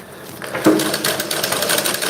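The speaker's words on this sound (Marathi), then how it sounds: "हे बघा जशी आहे तशी आपण शिवून घेणार आहे पट्टी कुठेही खेचायची वगैरे नाही आहे" A sewing machine stitches a narrow fabric strip for fine round piping, a fast, even mechanical rattle that starts after a brief pause and runs loudly and steadily to the end.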